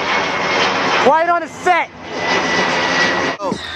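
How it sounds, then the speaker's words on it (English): Airplanes flying low overhead, a loud continuous jet-engine roar lasting the whole stretch while someone talks and shouts over it close by. "planes still flying over us, making mad noise"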